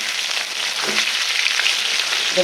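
Katla fish frying in hot oil, a steady, close, even sizzle with a dense crackling hiss that holds through the whole stretch, with no voices.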